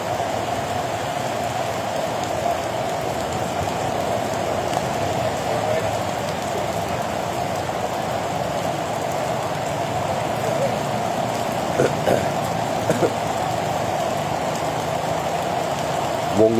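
Rain falls steadily on an outdoor procession in Thailand, a dense continuous patter of drops on surfaces lasting the whole stretch, with faint voices and a few brief knocks underneath.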